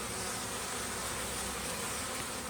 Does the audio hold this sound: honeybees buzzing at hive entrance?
yes